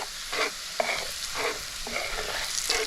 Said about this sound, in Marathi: हळद लाल मसाला आणि हा गरम मसाला मसाले असे चांगले असे परतून घ्यायचे